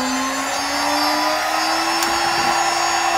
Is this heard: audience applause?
no